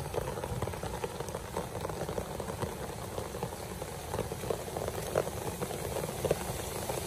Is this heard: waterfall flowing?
yes